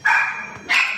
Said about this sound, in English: I'm thankful for dogs that bark a lot.